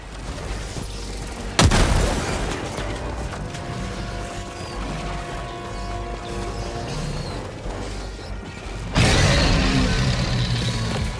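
Eruptor rifle fire in Helldivers 2, two heavy booming shots spaced several seconds apart, each a sharp loud blast followed by lingering rumble and explosion tail over continuous battle ambience.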